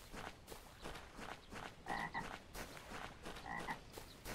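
Frogs croak repeatedly around a lily-pad pond during a carp fishing trip in Czechoslovakia in the game Fisher Online, rhythmic rasping calls at a moderate distance over a soft ambient background, with no talk.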